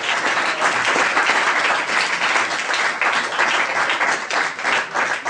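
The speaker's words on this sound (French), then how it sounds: "Stéphane Ronchevski, qu'on peut applaudir aussi" Steady, fairly loud applause from an audience at a fan convention, continuous clapping sustained throughout.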